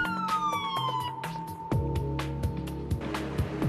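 A police car siren wails during a traffic stop for a suspected impaired driver, a falling tone giving way to rapid yelping pulses over engine rumble, loud and near, with no talking.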